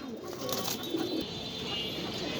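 Pigeons kept at a farm coo softly and close by, a brief low murmur over faint background noise.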